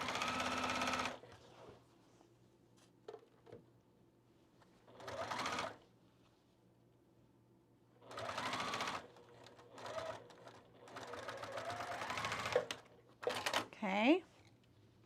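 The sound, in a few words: sewing machine stitching a seam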